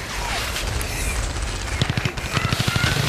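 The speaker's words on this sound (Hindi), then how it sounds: "कुछ गोलियां चली जा रही, चली जा रही है।" A rapid burst of gunfire crackles through the last second and a half, sharp repeated shots over a rough, noisy background.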